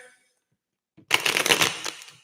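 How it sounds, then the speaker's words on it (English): Tarot cards are shuffled after a near-silent start: a faint tap, then a second of crisp, riffling card noise that is close and fairly loud and fades slightly at the end. "Let's shuffle the cards a minute."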